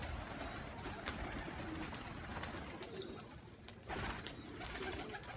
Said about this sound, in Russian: Голубочка-то.